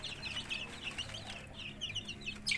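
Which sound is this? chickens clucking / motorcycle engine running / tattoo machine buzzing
chickens clucking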